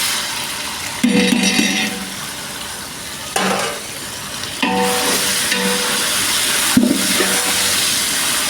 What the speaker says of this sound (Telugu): ఇప్పుడే ఏగుతున్నాయి ఎర్ర ఎర్రగా ఇగో చూడండి ఉల్లిపాయలు ఎర్రగా వేగిని